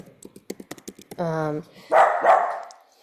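A dog barks excitedly at a child's balloon indoors, giving a quick run of short sharp barks followed by one long sustained howling bark and two loud yelping barks, close to the microphone with no talk over it.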